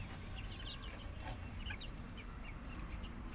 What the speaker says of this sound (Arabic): وهنا اهو الفراخ البيضه ما شاء الله بتاكل